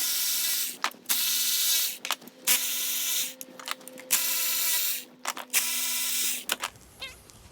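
A power ratchet spins out 10 mm valve cover bolts on a 2007-2008 Honda Fit engine, with about five close, buzzing whirring runs separated by short clicks and pauses.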